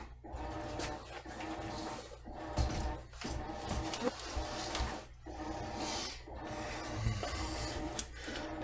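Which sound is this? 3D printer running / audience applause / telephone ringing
3D printer running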